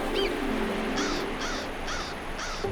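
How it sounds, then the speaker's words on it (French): A cartoon crow caws four times in a steady rhythm, loud and close, over a soft musical background in a Yakari animated episode. "Pauvre Elanlan, je suis sûr que ce corbeau s'est emparé de son esprit."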